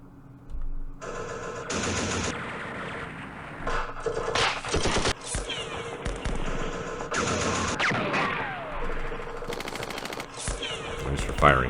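Rapid machine-gun bursts and scattered rifle shots from Campaign Series Middle East fill a Yemen ridge battle, coming in loud, dense volleys with short pauses between them.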